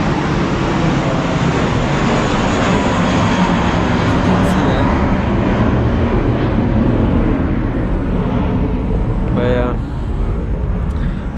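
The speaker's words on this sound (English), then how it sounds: "that's the airplane by the way." An airplane passes overhead close to an airport, a loud sustained engine roar filling the whole stretch and steady throughout, with faint traffic noise beneath it.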